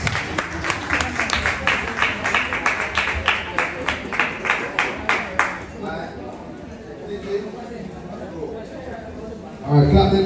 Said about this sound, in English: Clap them again,